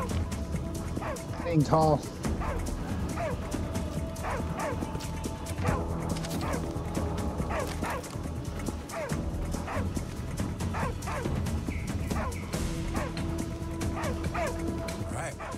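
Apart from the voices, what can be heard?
dog barking in the video game Arizona Sunshine 2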